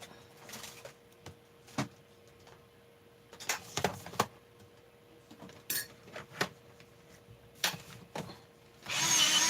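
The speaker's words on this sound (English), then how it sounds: "I got to sharpen a pencil" Scattered scraping and clattering bursts, close by and intermittent, ending in a steady grinding whir like a pencil being sharpened.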